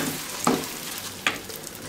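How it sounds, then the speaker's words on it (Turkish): Washed rice toasts in hot fat in a pan, a low steady sizzle with two brief stirring scrapes, close by and without talk. "Pirinçler iyice diri diri olana kadar kavuracağım"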